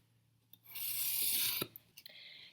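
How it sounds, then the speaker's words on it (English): A marker drags along a ruler across cardboard in one firm, rasping stroke of about a second, close and quiet, followed by a few light taps and a shorter scratch. "I'm going to draw a line down each side of my cardboard."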